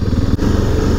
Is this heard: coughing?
no